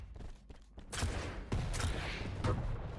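Rocket launcher blasts in a Quake Open League match, several loud explosive bursts spaced about half a second to a second apart over steady game noise, with a commentator's voice briefly audible.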